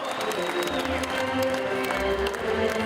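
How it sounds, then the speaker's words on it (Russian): Crowd applause at a Navruz celebration in Moscow, sustained clapping from a large audience heard evenly throughout, with some background murmur and music-like tones beneath. "Аплодисменты!"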